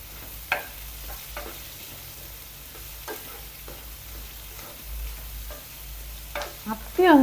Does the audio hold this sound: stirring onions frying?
yes